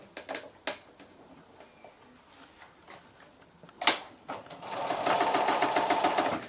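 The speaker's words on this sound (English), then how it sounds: "your sewing machine should fit in there fine" A sewing machine stitches quilt-as-you-go blocks together with a quarter-inch seam, first in scattered short clicks and taps, then in a sustained rapid mechanical chatter up close.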